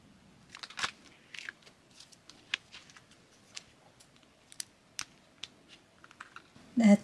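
Cutting out a thin, flattened sheet of clay for a custom doll, heard as a scattered series of soft, close snips and crisp clicks separated by quiet pauses, ending with a brief louder handling noise.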